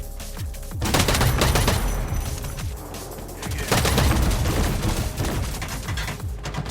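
An automated turret in the shooter game EVE Vanguard fires rapid bursts of gunfire, two loud sustained volleys of clattering shots, close and dominant, with booming impacts between them.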